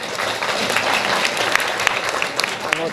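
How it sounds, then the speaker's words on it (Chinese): Scholarship recipients at an award ceremony in Tainan clap for themselves: dense, steady applause from a group fills the space close by, with a few sharper claps standing out. "是不是为自己拍手一下？"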